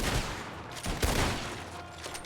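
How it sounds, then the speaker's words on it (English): Gunfire from the RedM western roleplay game, with a jail shootout in progress: repeated sharp shots crack out in an irregular volley, loud and dense, some close and some farther off, over a busy background. "people started firing at the jail"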